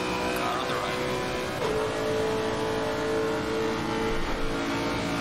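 Race car engine noise from the Assetto Corsa Competizione racing game, a steady loud drone with a rising pitch sweep as another car draws alongside, continuous over the full stretch.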